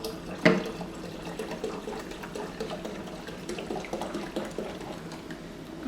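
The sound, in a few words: sparkling cranberry juice fizzing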